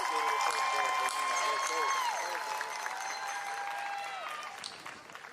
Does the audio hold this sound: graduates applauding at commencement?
yes